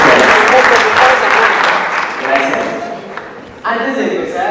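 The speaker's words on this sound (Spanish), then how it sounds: "¡Claro, fuertes un aplauso, por favor, para Carlos!" Enthusiastic crowd applause at a festival, loud and sustained, with a voice starting up near the end over the fading claps.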